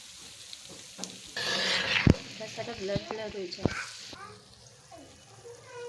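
Milk goes into a pan of sizzling bitter gourd and chicken curry, setting off a burst of loud hissing and frying with stirring clatter, while a person talks over it.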